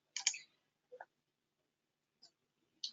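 A computer mouse clicks four times in a quiet room while proxy settings are imported in software, the clicks short, close and separated by pauses.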